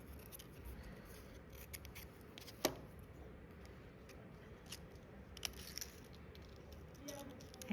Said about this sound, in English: To even this, I can cut another slot.